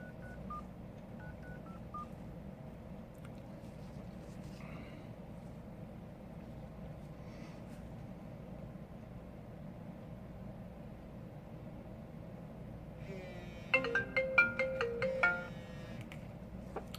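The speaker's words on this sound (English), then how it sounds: "We're going to do a quick phone call." An iPhone 5c undergoing a test call after an LCD screen replacement gives a burst of dialing tones followed by a ringtone near the end, loud and close over a steady low background hum, with no talking.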